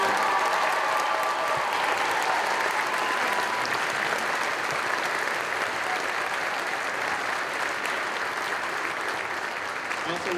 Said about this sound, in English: hear one more round of applause for all of our musicians and performers